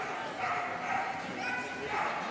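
A large dog yips and barks intermittently during a team jumping agility run at a world championship, set back in a reverberant arena under continuous commentary and crowd noise.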